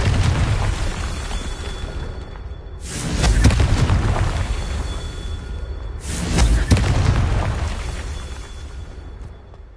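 Two heavy Confringo blasting-spell explosions from Hogwarts Legacy, a few seconds apart, each a sudden, loud, broadband boom that rolls into a rumbling decay over continuous low background noise.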